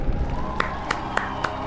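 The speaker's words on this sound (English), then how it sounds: "Round of applause." An audience applauds and cheers for a winner being announced at a gaming event, a crowd roar under scattered voices with a few sharp, louder claps or shouts standing out.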